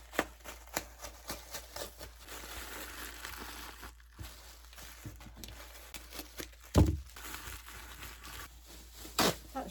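Bubble wrap being cut for packing an item to ship, heard as a steady run of soft crinkles, rustles and snips with a few sharper handling thumps, close and moderately quiet.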